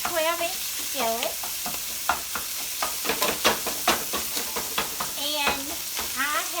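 A pound of Italian sausage sizzles in a 12-inch non-stick skillet while a utensil repeatedly stirs and scrapes it, giving a steady frying hiss broken by rhythmic scraping.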